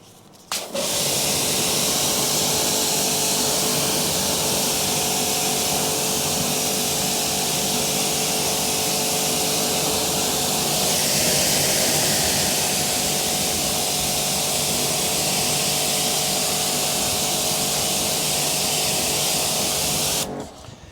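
A pressure washer rinses cleaning chemicals off a black alloy wheel, a loud, steady, unbroken hiss of spray that runs for about twenty seconds and then cuts off abruptly, with no speech over it.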